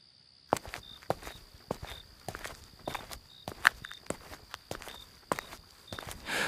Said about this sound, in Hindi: तभी अचानक कदमों की आहट सुनाई दी।